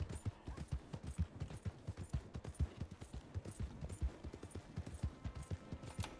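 A horse's hooves gallop in a fast, even rhythm in the Western open-world game Red Dead Redemption 2, the beats steady and fairly faint throughout with no talking.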